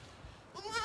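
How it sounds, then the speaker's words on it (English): A sheep on a camp farm gives a short, close bleat at the end, after a moment of quiet outdoor background. "Then we got the sheep here."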